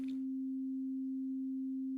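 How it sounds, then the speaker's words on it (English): Plain sine wave from a Plume Eurorack synthesizer module, a steady pure tone holding for two seconds after a brief noisy onset. "There's the basic sound of Plume. It's a sine wave."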